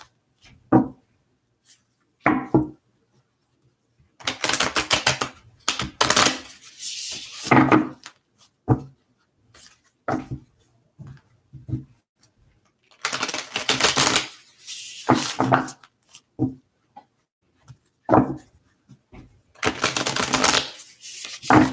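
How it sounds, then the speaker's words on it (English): Tarot cards are shuffled in several bursts of rapid riffling and rubbing, each a few seconds long, with quiet pauses and softer tapping and handling between them, close and clear with no talk. "just a couple more shuffles here."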